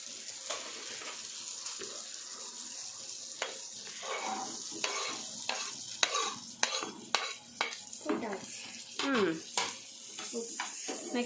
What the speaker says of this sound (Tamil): இப்படி வதக்கணும்